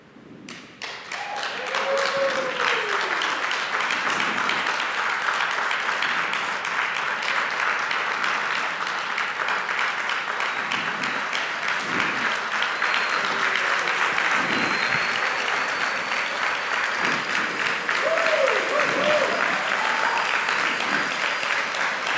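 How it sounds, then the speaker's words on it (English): An audience at an internet service launch event applauds loudly and continuously, a dense, close wash of many clapping hands that swells briefly near the end, with faint voices and cheers mixed in. "Let your applause be as fast as the internet speed itself."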